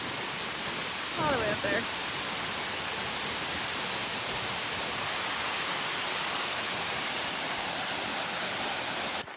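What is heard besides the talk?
Yellowstone waterfall rushing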